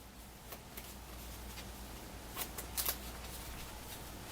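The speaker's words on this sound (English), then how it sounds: "We do need to shuffle, though." Playing cards being shuffled during a tabletop board game, a few soft riffling bursts near the end over a quiet room hum.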